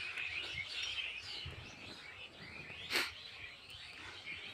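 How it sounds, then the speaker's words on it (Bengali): Birds chirping among rows of trees on a winter afternoon, a soft continuous mix of distant twittering calls, faint and without talk, with one brief louder rustle or chirp midway. "কত সুন্দর পাখিদের কিচিমিচি আওয়াজ।"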